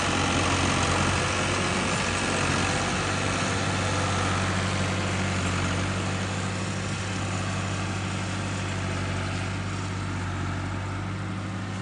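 A tractor engine runs steadily and loud throughout as it descends a sand dune, with a constant low rumble and no speech over it.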